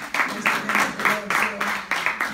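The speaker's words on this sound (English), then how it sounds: "Give her a round of applause" Rhythmic clapping from an audience at a testimony gathering, steady repeated hand claps over about two seconds, moderately loud and somewhat reverberant.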